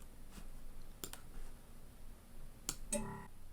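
A Mac computer mouse clicks a few times in the Finder, sharp isolated clicks in a quiet room with no talking.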